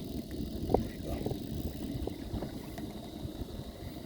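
A bicycle rolls slowly through shallow water on a nature trail, giving a low, steady, quiet rumble with a faint wash of wind and no talking.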